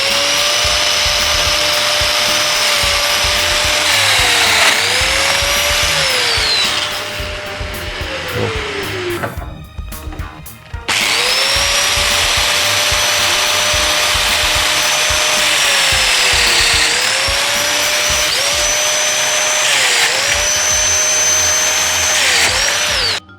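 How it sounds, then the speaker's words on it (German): A router with an 8 mm bit milling joint holes into solid wood, a loud close high-pitched whine with pitch dips as it bites, a brief pause mid-way, then sustained cutting again. "Und jetzt kann ich hier die erste Verbindung einfräsen."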